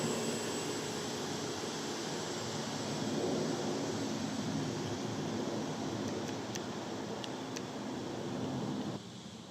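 A continuous motor drone hums through the clip, rising and easing slightly as a small radio-controlled model plane flies around, with a few faint ticks near the end.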